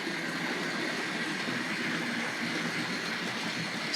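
A Tri-ang R.53 Princess Elizabeth model locomotive pulling R.228 Pullman coaches runs gently around a model railway, a steady, close whirring hum of motor and wheels on track without pause.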